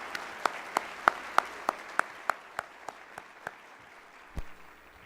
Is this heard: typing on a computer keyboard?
no